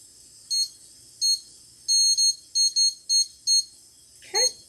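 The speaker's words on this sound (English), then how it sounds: "So let's get the timer going." A kitchen timer being set gives a run of short, sharp electronic beeps, some single and some paired, spaced irregularly over a quiet room, followed by a brief soft rustle at the end.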